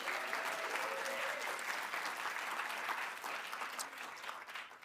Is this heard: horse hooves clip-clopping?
no